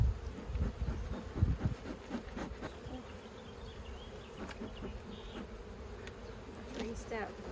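Honey bees buzz softly around an open beehive during an inspection, a steady low drone with occasional louder passes near the start and faint handling noises underneath.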